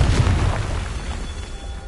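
A spell explosion fired in the Hogwarts Legacy video game, a deep booming blast with a rumbling tail that fills the short moment alone, loud and close.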